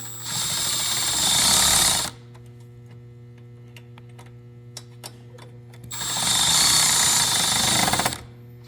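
A power tool bolts down a shock tower support on a Can-Am X3 in two loud sustained whirring bursts, separated by a quiet stretch of steady mains hum and small clicks.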